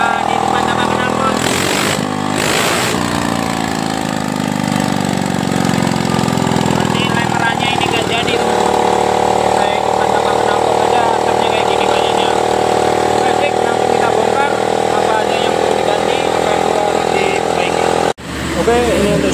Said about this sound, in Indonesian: Ini dihidupkan tanpa knalpot.